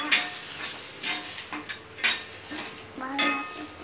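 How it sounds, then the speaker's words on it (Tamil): Pirandai chutney is stirred in a frying pan, a soft sizzle underlying repeated scraping strokes of a spoon that come in uneven bursts, fairly close and moderately loud with no talking. "அப்படியே கலக்குங்க"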